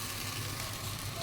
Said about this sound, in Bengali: আর এইখানে ভাজাটা বসালাম একটু